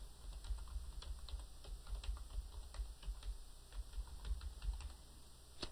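Someone typing a file name on a computer keyboard, producing a quick, irregular series of soft, close clicks and taps that continues steadily without any talking.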